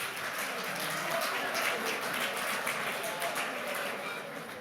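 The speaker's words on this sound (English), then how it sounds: "let's give Isaac a nice round of applause" An audience at a mathemagic stage show breaks into steady applause for a volunteer, a dense wash of clapping that holds for several seconds before easing slightly.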